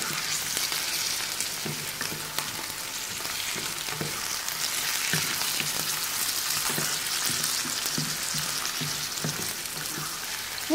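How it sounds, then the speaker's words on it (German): Meat sizzles steadily in a hot pan, a close, continuous crackle with occasional soft stirring knocks. "Jetzt gehen wir auf die, das Fleisch dazu."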